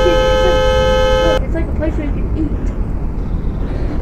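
A loud, sustained car horn blares in the Roblox Greenville driving game, then cuts off abruptly, followed by busy in-game traffic and engine noise.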